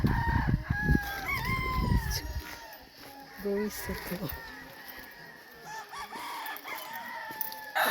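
Fighting cocks in Murcia, Negros Occidental, crow several times in clear, strained calls, with clucks mixed in, while people talk nearby and a bumping clatter sounds near the start.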